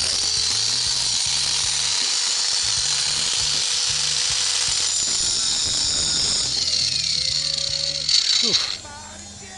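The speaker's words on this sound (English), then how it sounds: "I think I need an angle grinder." An angle grinder cuts a stuck clutch off a car during an electric-vehicle conversion. It gives a loud, steady high-pitched whine with a pulsing rattle underneath, then winds down and stops near the end.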